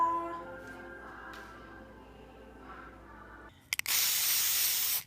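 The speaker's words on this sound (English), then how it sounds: "So I'm spray painting the J right now" A spray paint can sprays paint onto a wooden letter J for a homemade play kitchen. After a quiet stretch with faint background tones, two quick sharp clicks come first, then a loud, steady close-up hiss that lasts about a second and a half.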